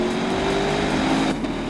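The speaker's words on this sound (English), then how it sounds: "what about that V8 sound? That's pretty good." Lexus GS F V8 engine running at steady revs, a loud, raw, continuous drone heard close up and alone, easing slightly near the end.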